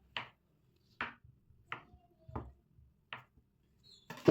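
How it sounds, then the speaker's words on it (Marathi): Knife cutting through paneer on a board for a paneer matar masala, six sharp, distinct chops at irregular intervals, each a short close tap against near silence. "हे पहा असं पनीर कट करून घ्यायचं"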